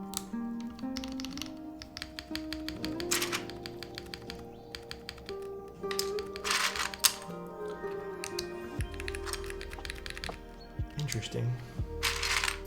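Clacky keystrokes on an IQUINIX Super 1+1 TKL mechanical keyboard, irregular bursts of quick taps close to the microphone, with someone talking over much of the typing.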